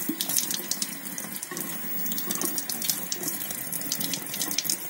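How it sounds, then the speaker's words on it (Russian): Cold tap water runs steadily into a sink while tomato seeds are rinsed under the stream, a close, continuous splashing hiss with slight surges and no speech. "Прям под холодной водой"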